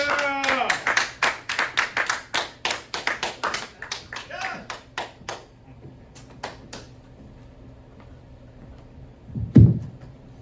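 A comedy club audience gives a comedian a round of applause, starting as dense, close clapping that thins into scattered claps and fades under light crowd noise.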